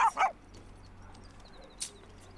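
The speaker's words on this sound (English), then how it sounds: "my dog and the next door neighbor's dog just started barking" A pair of quick dog barks opens the moment, from a household dog and a neighbour's dog nearby, then fades into quiet room hum with a faint later yip.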